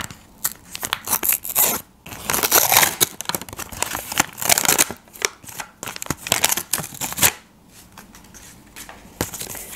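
Paper surprise packets with stickers and treats being carefully unwrapped and torn open up close, with irregular crinkling, rustling and tearing noises in bursts separated by short quiet gaps.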